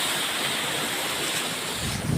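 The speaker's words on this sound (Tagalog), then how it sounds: "Pag humahampas dito sa gilid ng pangpang, oh." Waves crash and churn against the shore bank on Burias island, Philippines, in a dense, steady roar, close by, with wind rushing across the microphone.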